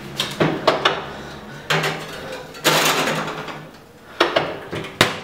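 Metal cake pan for a cream and walnut cake being slid into an oven and the door shut, a series of loud clanks, scrapes and thumps in bursts.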